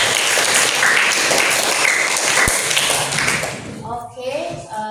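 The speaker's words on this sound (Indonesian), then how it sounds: "Ya, beri tepuk tangan dulu juga." Students applaud in a classroom, dense clapping that fills most of the clip with a single sharp knock in the middle, then fades as a voice begins speaking.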